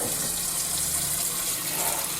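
A kitchen tap runs steadily, a continuous close hiss and splash of water pouring with no pauses and no talking.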